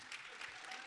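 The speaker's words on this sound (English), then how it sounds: "You brought a couple cheering fans out there." An audience at an industry conference applauds in a soft, steady patter of clapping, faint and distant, with no distinct cheering standing out.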